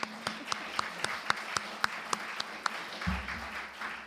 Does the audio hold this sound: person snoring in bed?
no